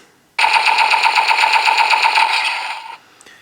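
A rapid, rattling burst of electronic blaster fire from a Kamen Rider Gavv DX Bake Magnum toy gun rings out loud and continuous for about two and a half seconds, then cuts off abruptly.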